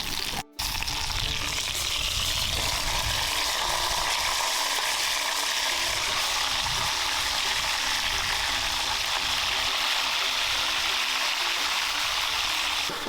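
Food sizzles and fries steadily in a pan after being flipped, with vegetables cooking on a camp stove off-grid in the desert; a continuous close crackling hiss runs throughout, with no talk.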